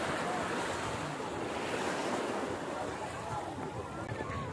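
Ocean surf rolling onto a tropical beach, a continuous loud wash of breaking waves with wind rumble on the microphone, steady throughout and heard alone.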